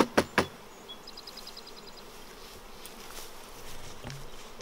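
Honeybees buzz around brood-filled frames lifted from a hive during an inspection, a faint, steady hum under a few sharp knocks at the start.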